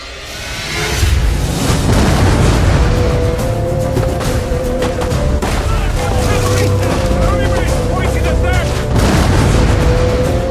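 Dense battle noise of the 1428 Siege of Orléans, with repeated booming cannon blasts and crackling gunfire, loud and continuous, mixed with shouting and clamor throughout.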